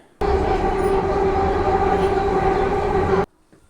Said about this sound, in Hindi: द्वारका से पकड़ी मैंने नजफगढ़ की, और नजफगढ़ में उतर गया मैं मेट्रो से।